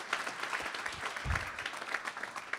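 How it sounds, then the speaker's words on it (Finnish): Brief round of audience applause at a seminar on demand response and smart metering, soft and fairly distant, a scatter of claps over room noise. "Hyvä, pienet aplodit tähän"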